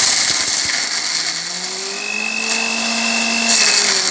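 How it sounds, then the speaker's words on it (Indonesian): Electric grinder whirring steadily as it blends peanuts, shallots, garlic and chili into a spice paste for Bandung batagor, a continuous motor drone with rising pitch shifts, no talking. "Oke guys, kita akan menggiling untuk bumbunya ya. Kacang tanah tadi, bawang merah, bawang putih, dan cabenya."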